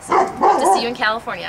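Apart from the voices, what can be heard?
dog barking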